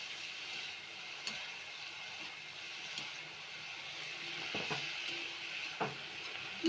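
Food being stirred in a frying pan, a steady soft sizzle with faint scraping and clinking strokes, fairly quiet and continuous with no talking.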